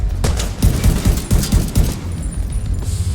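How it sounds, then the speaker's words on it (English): Close-range shotgun blasts in the shooter game The Division 2, several heavy booming shots at an irregular rhythm, loud and near, with no talk over them. "At close range, that shotgun is devastating."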